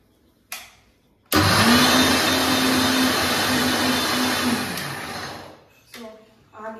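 A kitchen mixer grinder whirs loudly and continuously for about four seconds, grinding neem leaves into a paste, with a steady motor whine that slows and stops, framed by short clicks and handling noises.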